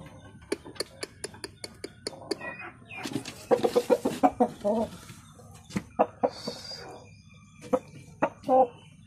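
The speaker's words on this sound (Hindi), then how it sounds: "मुर्गी ला इधर" Aseel chickens on a breeding farm cluck and squawk close by in short repeated bursts, with people talking nearby.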